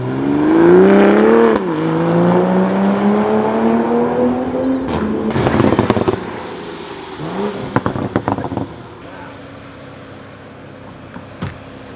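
A 2020 Toyota GR Supra engine revs hard and climbs in pitch as it accelerates, then shifts and pulls again before settling into a quieter cruise with a few clicks.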